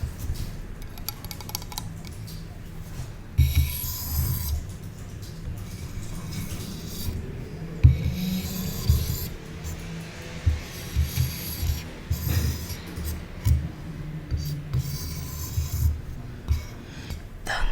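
A knife slicing through a fresh aloe vera leaf, first trimming off its spiny edges, gives close, soft crunches and wet, slippery cuts in irregular bursts over a quiet background.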